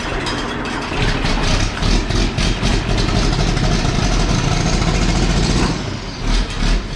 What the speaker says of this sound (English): Still the coolest sounding tractor to start up.